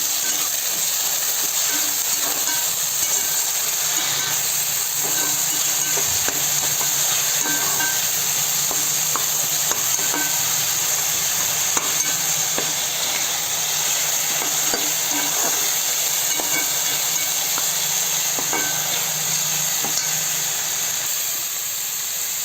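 Ginger garlic paste frying for Telangana-style goat head curry, a constant loud hiss and sizzle with faint intermittent stirring taps throughout.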